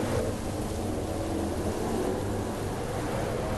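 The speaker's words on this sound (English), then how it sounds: "Rain conditions that you're hearing lasted for about 30 minutes." Continuous heavy rain in the racing video game GT7 during a V8 Supercars wet race at Suzuka, with a low rumbling roar, dense and steady throughout with no voices.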